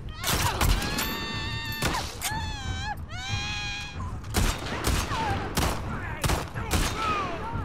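Gunfire from the video game The Last of Us Part II comes in several sharp bursts of shots. A voice shouts and groans over the shots, and the sound stays close and fairly loud.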